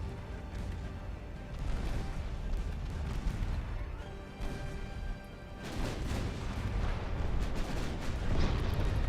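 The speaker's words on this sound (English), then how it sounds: "these 10-inch guns are doing really good" Battleship 10-inch guns firing in the naval video game Ultimate Admiral Dreadnoughts: heavy, rumbling gun blasts and distant booms rolling one after another over a continuous low sea-battle drone.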